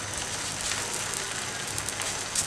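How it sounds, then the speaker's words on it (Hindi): A cheese paratha laid on a hot greased tawa gives a soft, continuous crackling sizzle, faint and even with a few slightly louder pops, heard alone without talk. "तवे को गर्म करें, थोड़ा सा चिकना कर लें और पराठा डालें।"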